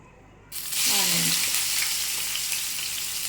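Chopped onions hit hot oil in a pan for fish curry, bursting into a loud, bright sizzle that settles into a steady, continuous frying hiss up close.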